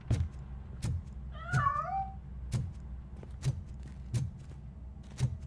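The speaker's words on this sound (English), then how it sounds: "That cat must be hiding inside." A cat in a video game gives a single wavering meow near the middle, heard over regular rhythmic thumps and a low steady background hum.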